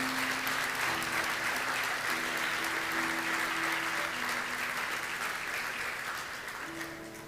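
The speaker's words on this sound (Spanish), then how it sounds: "Dele un aplauso a Cristo, hermano, dele un aplauso a Cristo." A church congregation applauds steadily during a sermon, a dense, sustained clapping that fills the room, with faint sustained tones of music or organ underneath, and it tapers off slightly toward the end.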